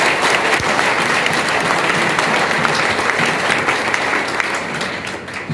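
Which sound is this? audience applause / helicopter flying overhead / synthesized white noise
audience applause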